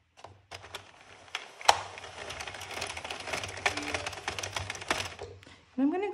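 An Addi knitting machine cranks steadily with a dense rattling clatter for several seconds as it knits yarn from two skeins for a scarf and beanie, and a voice speaks briefly at the end.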